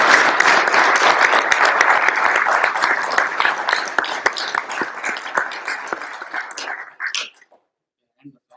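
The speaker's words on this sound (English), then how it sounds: "A big round of applause for all the staff" An audience at an engineering thesis defense gives staff a loud round of applause, dense clapping from many hands that gradually thins and stops, followed by near silence.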